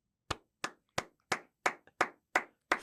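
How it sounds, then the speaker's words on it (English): Eight separate, sharp hand claps ring out at a slow, fairly even pace, close and crisp, with brief silence between each one and no talking. "I just want to give a round of applause for Jake."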